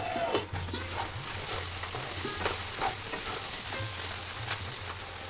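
Okra (bhindi) sizzles steadily in a pan, with a continuous crackling hiss and scattered stirring scrapes and clicks close by. No one speaks.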